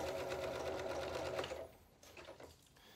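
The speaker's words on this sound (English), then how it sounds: "I'm gonna start to do this blanket stitch here." A sewing machine stitching a blanket stitch along the edge of a quilt display strap, a steady rapid mechanical whir that runs close for over a second, then slows into quieter, uneven stitches.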